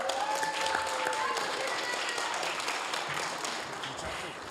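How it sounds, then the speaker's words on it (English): A room full of people at a Hayward city council meeting applauds honored teachers, a steady, even wash of clapping that carries on throughout before trailing off slightly at the end. "Please give them another round of applause."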